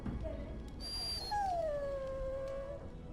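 Dog whimpering and whining in Dragon Age: Origins, a thin, high, drawn-out whine that slides slightly downward, heard close over a low game background hum.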